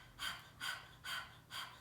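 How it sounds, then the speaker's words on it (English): Four quick, even panting breaths come through an open mouth with the tongue out, a puppy-style breathing exercise from chair yoga, close and fairly soft, with short pauses between them. "letting the tongue come out of the mouth and just panting"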